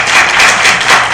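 A seated audience at a Korean public forum on welfare policy gives a short burst of dense applause, many hands clapping steadily and fairly close.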